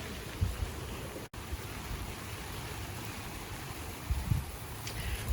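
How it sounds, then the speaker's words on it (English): Rain falling on a backyard herb and vegetable garden, a steady soft hiss of drops with occasional low rustles and bumps nearby, no voices. "This rain is so good for the plants"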